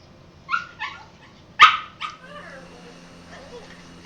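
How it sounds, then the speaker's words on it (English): Dogs bark in a few short, sharp bursts at moderate distance, with one louder yelp in the middle, over a steady low engine drone inside a Cessna Caravan aircraft. "we can hear the dogs having a grand old time"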